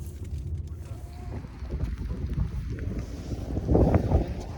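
Gusty wind buffeting the microphone with low rumbling roar, swelling louder near the end, over faint outdoor water and boat noise, with rain falling.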